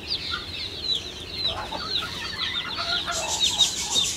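A turkey hen on a farm gives repeated high, squeaky calls and clucks, close and moderately loud over a low background murmur.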